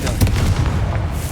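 A Confringo fire spell blasts off in Hogwarts Legacy, giving loud, dense booming bursts that rumble continuously through the short moment with strong low-end impact.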